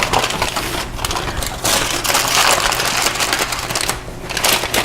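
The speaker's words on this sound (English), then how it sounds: "And this is just a heavy-duty aluminum foil." Heavy-duty aluminum foil crinkles and crunches loudly up close as it is tented over ribs, a continuous dense rustling with brief pauses and bursts of sharper crackling.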